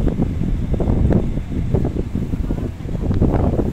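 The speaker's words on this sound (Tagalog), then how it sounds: "Dito kasi mahangin." Gusty wind blusters against the microphone in uneven rushes, fairly loud and continuous, with no speech.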